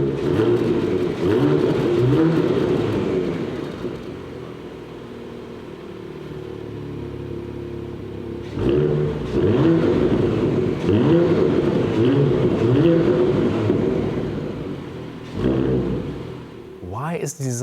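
A facelifted Porsche Macan with a quad-pipe sports exhaust idles with a deep, throaty rumble, then revs up loudly and drops back, with a brief high whine at the very end.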